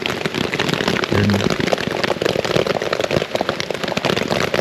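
Rain falls at night on a tent during solo camping in bear country, a dense, loud patter of crackling drops hitting the fabric without pause.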